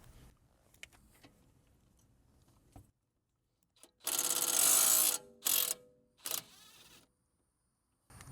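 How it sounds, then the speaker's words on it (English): Impact wrench loosening an 18 mm nut on a sway bar link of a Mercedes W166 ML350: a loud sustained burst of hammering rattle about a second long, then two shorter bursts, after quiet handling clicks. "Gonna try to use impact wrench."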